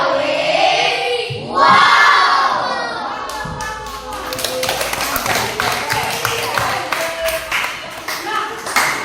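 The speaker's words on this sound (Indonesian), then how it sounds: "Kita berikan tepuk wow." A group of people, apparently children in a classroom-style Christian religious lesson, claps together in a patterned rhythmic cheer, starting with voices and then a run of quick, crisp, fairly loud hand claps.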